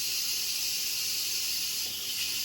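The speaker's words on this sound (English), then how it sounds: "pretty soon all the steam will escape" Steam hisses steadily from an Instant Pot pressure release valve, a loud continuous airy rush that tapers slightly in pitch toward the end, with no voices.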